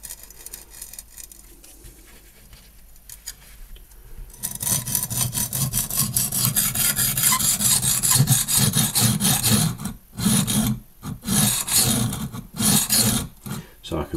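Knife blade ground on a HORL 2 rolling sharpening system, a steady rasping grind that starts quietly and turns loud and continuous after a few seconds, with brief pauses between strokes near the end.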